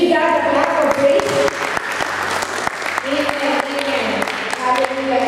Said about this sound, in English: Let's continue to give God a clap of praise.